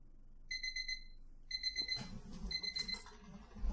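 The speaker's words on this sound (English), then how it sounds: "There goes my alarm again." An alarm clock beeps in quick, high-pitched bursts of four, fairly faint and nearby, then beeps again as rustling and fumbling noises follow, as if reaching to hit snooze.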